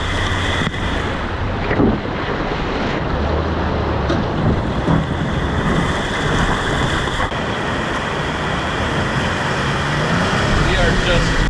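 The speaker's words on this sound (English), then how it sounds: "Right there, there's a waterfall just coming down the side." Waterfall pouring down a mountainside beside a river, a constant broadband roar of rushing water that stays loud and steady throughout, with some wind buffeting the microphone.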